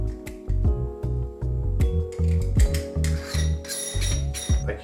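A heavy solid-metal camera lens, roughly a kilo, being handled up close: a run of short mechanical clicks and ratcheting knocks, like twisting rings or mounting, in a steady uneven rhythm with no talk.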